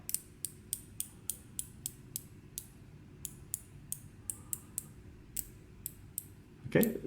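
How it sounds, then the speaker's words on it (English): Crisp ratcheting clicks from a 120-click unidirectional dive watch bezel with sapphire insert, in quick irregular bursts with slight double clicks, over a quiet background, close up, followed by a brief rustle at the end. "surrounding it is a 120 click unidirectional dive bezel"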